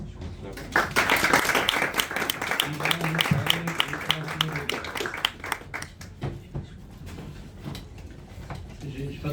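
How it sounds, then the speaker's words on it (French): An audience at a science talk on galaxy simulations claps for the speaker, with a dense round of applause that slowly thins into scattered individual claps, while a voice speaks briefly partway through. "on va applaudir Corentin."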